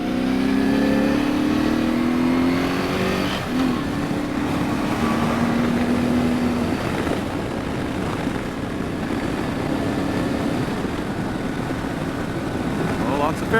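A BMW R1100R motorcycle cruises on the highway, its steady engine drone mixed with loud, continuous wind roar that stays constant throughout, with a faint rising whine early on.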